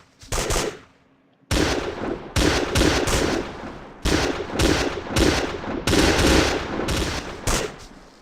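Video game gunfire from AI-controlled units: loud bursts of automatic shooting in repeated clusters, with a brief lull near the start, then dense overlapping volleys continuing to the end.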